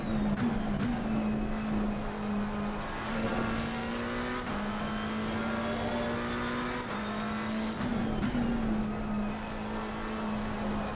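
Race car engine in the Assetto Corsa Competizione video game, a steady loud drone holding near-constant revs with slight pitch dips at shifts, continuous with no talking.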